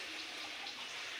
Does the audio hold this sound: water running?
yes